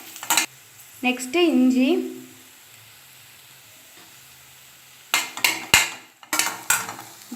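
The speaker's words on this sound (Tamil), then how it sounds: "கருவேப்பிலை, பச்சை மிளகாய், இது எல்லாத்தையும் ஆட் பண்ணி நல்லா மிக்ஸ் பண்ணிக்கலாம்." Onions, curry leaves, green chili and ginger are stirred in a pan for poori masala. A short spoken phrase comes first, then a quiet gap, then a series of close spatula clatters and scrapes over a faint sizzle.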